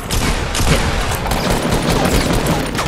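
Gunfire in Fortnite Battle Royale, a loud, close, unbroken barrage of rapid shots and crackling impacts layered over each other, with no talk heard.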